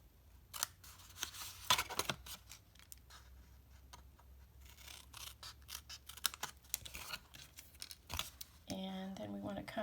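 Scissors snip through cardstock for a door hanger in a series of short, close, crisp cuts with quiet rustling between them, and a person speaks briefly near the end.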